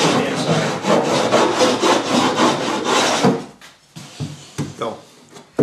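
Sandpaper rubs back and forth along a wooden edge during a boat build, a loud close rhythmic scratching of even strokes for about three seconds, then scattered light knocks and handling sounds.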